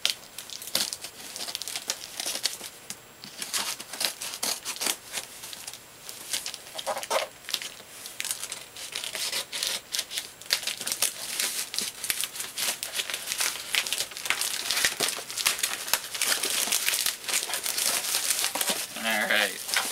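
Scissors struggle to cut open a package of VHS tapes, giving a busy run of crinkling plastic, snipping and tearing rustles at close range with no voice.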